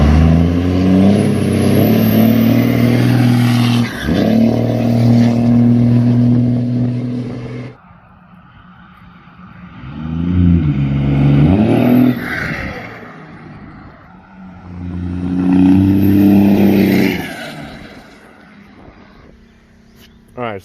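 A car engine with a newly fitted exhaust runs loud and revs in three separate bursts, rising and falling with strong low rumble, with quieter idle between the surges.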